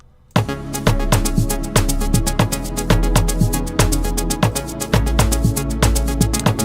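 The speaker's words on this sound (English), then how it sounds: "It's actually a clap, an amazing simple clap here" A loud electronic drum loop plays, with punchy kicks and sharp, snappy claps repeating in a steady, fast rhythm.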